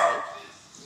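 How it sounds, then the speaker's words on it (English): A dog barks once, a sharp nearby yap at the start that fades quickly into a quiet room. "Sorry, my dogs are really annoying right now."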